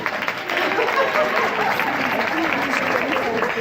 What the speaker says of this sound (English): Give yourselves a nice big round of applause.